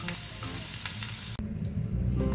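Cabbage grills in a hot pan before a stir fry, a loud close sizzle with a brief break partway through before the frying noise returns.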